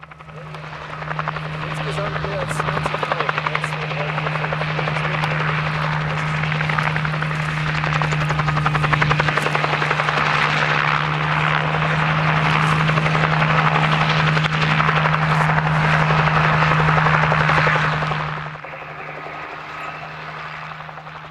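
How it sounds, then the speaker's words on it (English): A low-flying helicopter roars close overhead during a wild horse roundup, a loud, steady rotor thrum that holds for a long stretch before abruptly dropping away. "the helicopters sometimes came within a few feet of the horses"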